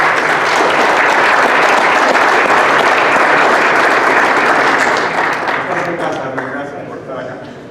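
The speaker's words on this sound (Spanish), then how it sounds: "Les suplico que me auxilien dándole un muy fuerte aplauso a Hernán Pérez." Loud, dense applause from a conference audience honoring a speaker at a Latin American pensions and savings conference, holding steady for several seconds and then fading out near the end.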